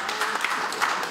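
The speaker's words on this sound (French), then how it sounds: "Clap, clap, clap, la salle applaudit, bravo" An audience applauds in a hall during a televised Geneva debate show, a brief, steady wash of clapping at moderate distance with no voices over it.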